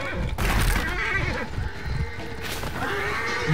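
A horse whinnies loudly in the video game For Honor, with pounding hooves and battle noise around it and a second neigh near the end.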